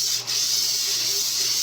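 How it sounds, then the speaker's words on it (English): Cooking spray hisses steadily onto the bottom of a pan, one continuous close spray with a brief dip near the start. "So we're going to spray the bottom of this pan."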